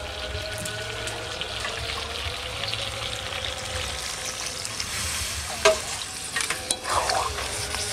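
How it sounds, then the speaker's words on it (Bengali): Strawberry chicken, browned in a pan, keeps frying and stirring as a little water is added, a steady close sizzle with a sharper burst of hissing and splashing near the end. "এখন আমি অল্প জল দিয়ে দেবো।"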